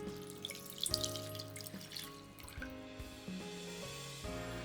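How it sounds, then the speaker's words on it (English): Two hundred fifty grams of water is poured into a pot while making mizu yokan, a Japanese sweet set with kanten. The pour runs as a quiet, steady trickle and splash, with faint steady tones underneath and no voice. "And I pour 250 grams of water into the pot."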